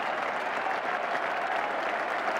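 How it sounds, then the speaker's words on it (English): A cricket crowd applauds steadily after a batsman's stroke, an even wash of clapping at moderate distance, with no voices on top. "A standing ovation and applause from everyone on the field in the Australian side."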